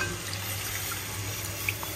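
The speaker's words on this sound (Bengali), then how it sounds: "এবার যে স্টকটা আছে ওটা দিয়ে দিই।" Chicken stock pouring into a pan of browned, cooking chicken, a steady close liquid wash and hiss with a faint drip near the end, no talk.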